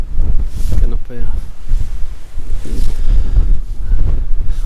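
Strong, gusty wind roars and buffets the microphone on an exposed mountain edge at the Old Man of Storr in Scotland, a loud, continuous low rumble with a brief voice breaking through.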